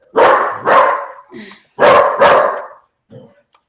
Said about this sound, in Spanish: ¡ay, mi perro va a ladrar!